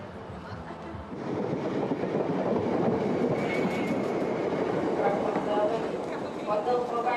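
A London suburban passenger train on the Waterloo to Chessington South line rumbles steadily and close, with a rolling, rattling clatter building after a quieter start, while someone narrates over it.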